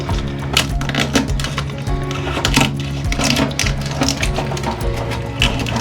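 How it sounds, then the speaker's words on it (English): A knife cuts around the mouth of a crayfish shell with a close, fairly loud run of rapid crunchy clicks and crackles, busy and uneven for several seconds, with no clear speech. "Just take the knife and cut round"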